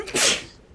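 A single short, sharp sneeze bursts out at close range, then quickly fades into quiet.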